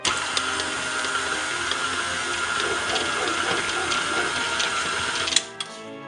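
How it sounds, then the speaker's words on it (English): Electric mixer running steadily through cookie dough for black cat cookies, a continuous whirring motor hum with faint rattling, close and alone, cutting off near the end. "then get the mixer on, mix this in before you do the next step"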